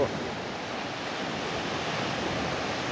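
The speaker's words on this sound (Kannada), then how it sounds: "ಕಾರವಾರ ಬೀಚಿನ ಅಲೆಗಳು" Loud, close ocean surf at Karwar beach rolling in continuously, a dense rushing wash of breaking waves with a slight swell at the start; no talking.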